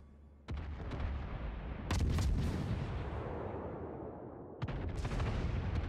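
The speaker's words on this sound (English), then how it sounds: "I'm going to be if that guy keeps on firing at me" Heavy gunfire and booming cannon blasts in a naval battleship video game, loud and continuous with sharp bursts at the start, near the two-second mark and again near the end.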